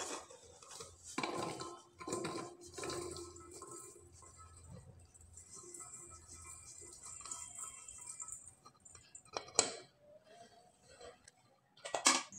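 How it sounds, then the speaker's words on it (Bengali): Coconut pitha dough tipped from a pan into a bowl, with scattered clinks and scrapes of metal utensils and cookware through the clip, including a few sharper knocks near the end. "একটা পাত্রে আমি ঢেলে নিব।"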